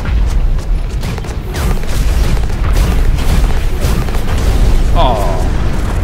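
In the mech combat game Hawken, a rocket launcher blast slams into the player's mech as a dull, heavy boom inside a dense, continuous rumble of battle noise, with brief pops layered over it.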